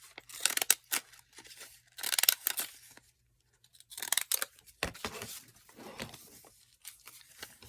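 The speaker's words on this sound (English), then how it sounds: "I'm going to cut out one of these tags, but I'm not going to cut it as a tag." Scissors snip through a paper tag in a vintage Santa journal craft, with a series of short, crisp cuts in irregular bursts and quiet pauses between them, close and clear.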